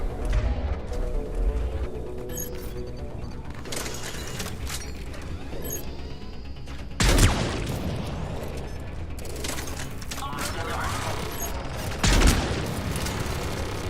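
Gunfire and combat noise in the science-fiction shooter game Mass Effect 3, a dense, continuous wash of shots and mechanical clatter with two louder impacts standing out, steady and loud throughout.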